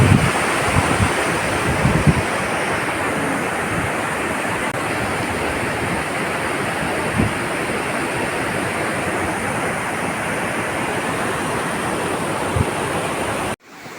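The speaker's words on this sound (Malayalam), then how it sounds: "വെള്ളത്തിൻ്റെ ഒച്ച ഉണ്ടോ?" Rushing water near Athirappilly waterfall roars as a steady, loud broadband wash that never lets up, thick with wind buffeting the microphone and breaking off abruptly at the end.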